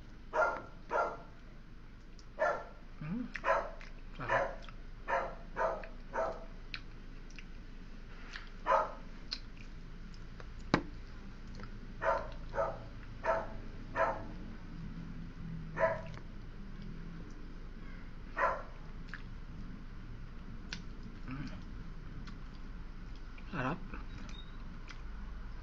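A house dog barks repeatedly nearby in sharp, irregular single yaps and short bursts spread across the stretch, over a quiet background.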